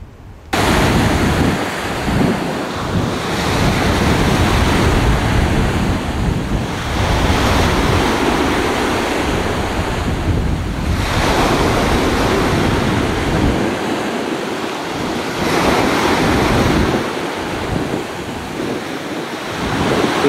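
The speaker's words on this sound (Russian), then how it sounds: "Пляж Толстяк." Surf washes steadily onto a deserted beach below a landslide-prone, collapsing shore, loud and close, with heavy wind buffeting the microphone throughout and no voices.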